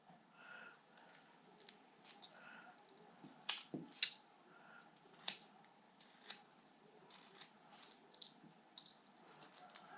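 A carving knife presses a stop cut into wood for the nose of a simple Santa ornament, giving a few faint close clicks and snaps with quiet pauses in between.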